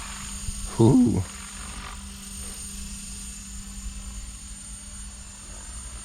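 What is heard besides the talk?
Blade Fusion 550 RC helicopter flying before landing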